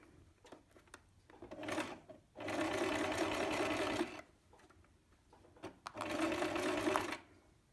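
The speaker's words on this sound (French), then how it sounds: "Vous piquez tout le long à 2 mm du bord." A sewing machine stitches a hem 2 mm from the edge of a simple cape, two sustained whirring runs separated by quiet pauses with light handling clicks.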